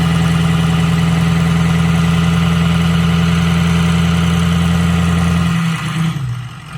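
Lifted Ford Powerstroke diesel truck engine running at a steady loud idle, a close, rough low rumble with a rhythmic knock that cuts off near the end.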